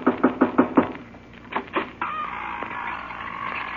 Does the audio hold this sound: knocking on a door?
yes